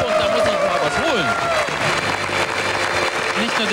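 A studio audience at the 1993 anniversary broadcast of a German TV wheel-of-fortune game show claps loudly and steadily throughout this short stretch, with a voice briefly audible over the applause.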